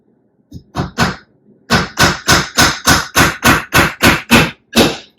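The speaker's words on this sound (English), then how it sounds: "So we're going to position our nails, start it in there." Nails are hammered into a wooden frame with a dozen loud, close hammer strikes, starting with a few quick taps and then settling into a steady, even rhythm.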